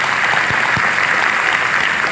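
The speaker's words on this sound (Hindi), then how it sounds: "एक बार जोरदार ताली के लिए" An audience at an Allen coaching institute admission and orientation event gives a steady, dense round of loud applause that fills the whole stretch with continuous clapping.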